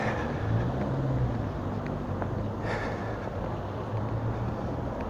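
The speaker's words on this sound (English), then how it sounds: "That's why the streets are full of cars." Street traffic with cars driving by, a steady broadband rumble of passing vehicles at moderate distance, continuous and without voices.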